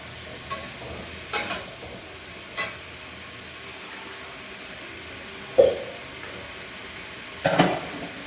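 Spices for a fish curry frying in a pan with tomato, a soft steady sizzle with a handful of sharp scraping clinks from the spoon stirring against the pan, close by.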